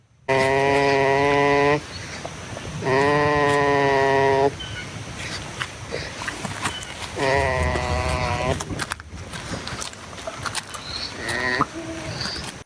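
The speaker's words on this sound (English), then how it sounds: "Bear, which one of those goats was making that noise?" Several goats on a farm bleat loudly in long, wavering calls, three drawn-out cries spaced a few seconds apart with quieter farmyard noise and rustling in between.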